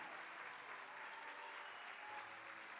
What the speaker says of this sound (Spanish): puede haber ovación, por supuesto, para cada uno de ellos